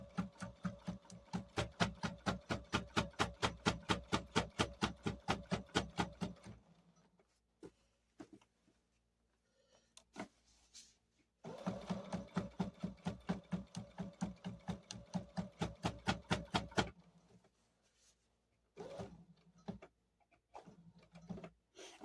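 Sewing machine stitching in the ditch along a quilt seam: two bursts of rapid, even needle clatter, with a short pause between them filled by faint clicks and handling sounds, and scattered taps after the second burst.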